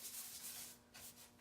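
Colored wax being rubbed by hand into distressed painted furniture, a soft close scratchy swishing of strokes with a faint steady background hum, quiet and without talk.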